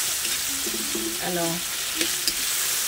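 Tomatoes being crushed as they fry in a pan for a Filipino dish of dried fish, a steady broadband sizzle throughout with brief voiced murmurs and a couple of soft clicks.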